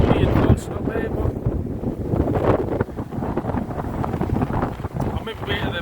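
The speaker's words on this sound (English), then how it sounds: "It's a wee bit windy" Gusty wind buffets the microphone beside Lintrathen reservoir in Scotland, a steady loud roar with rising and falling blasts throughout.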